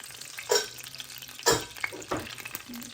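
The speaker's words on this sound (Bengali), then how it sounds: "ছোটো চিংড়িটা যেইভাবে করতে হয় আসলে অনেক তেল লাগে হ্যাঁ সেই জন্য ভালো পরিমাণে তেল দিয়ে এটা রান্না করছি" Small shrimp frying in plenty of hot oil, with a steady soft sizzle broken by a few louder bursts of stirring and scraping in the pan, close by and without talk.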